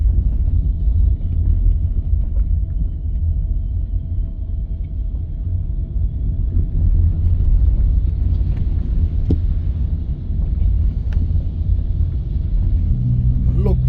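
Road traffic on a rainy back road in Santa Cruz, St. Elizabeth, Jamaica: a steady low rumble of passing vehicles and wet road noise, fairly close and continuous, with someone speaking at times.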